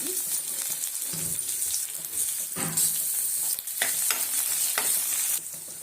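Capsicum frying in a pan for shavige bath sizzles steadily while a spoon stirs and scrapes through it in repeated close strokes, the hiss rising and falling with each stir.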